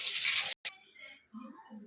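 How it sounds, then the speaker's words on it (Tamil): Air cooler pad being rinsed and washed in water at home, a broadband splashing rush for about half a second, then a brief gap and quieter trickling and sloshing with low handling knocks. "இந்த பேடை நல்லா தண்ணியில் கழுவி வாஷ் பண்ணி எடுத்துக்கணும்"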